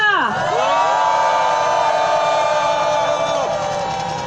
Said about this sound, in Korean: 마지막으로 노란색을 흔들면서 평화의 함성 질러보겠습니다.